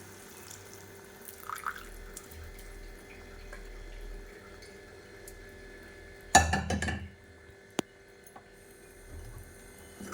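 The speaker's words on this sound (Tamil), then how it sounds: "தண்ணியோடைய வந்து கறியும் சேர்த்து ஊற்றிடலாம்" Boiled meat and its cooking water are poured into a pot for a Tamil dry salted-meat curry: a soft, watery pour over a low kitchen hum, with a short splashy burst and a light clink midway.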